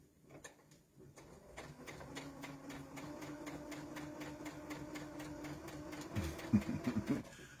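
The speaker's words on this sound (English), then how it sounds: "I'm just going to sew along all of those lines" A sewing machine stitches along the marked lines of half-square-triangle quilt pieces, its needle running in a steady rapid mechanical chatter that starts after a second and continues at an even pace, close up, with no talking.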